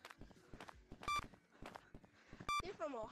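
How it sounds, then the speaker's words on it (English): Electronic beeps from the Capuchin video game, two short bright tonal bursts about a second and a half apart, mixed in among footsteps and people talking over the game sounds. "Why are you beeping?"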